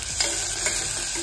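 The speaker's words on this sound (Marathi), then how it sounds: "फोडणी दिली आहे मी आत्ताच मस्तपैकी" Tempering of cumin, mustard seeds and curry leaves in hot oil inside a pressure cooker, a short burst of steady close sizzling with a couple of light stirring scrapes.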